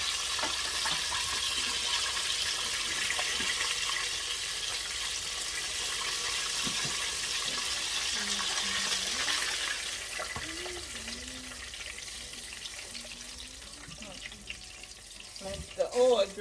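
Chicken wings crackle and sizzle in deep fryer oil, a steady bright hiss that runs throughout, with children's voices faint in the background and a few clunks near the end.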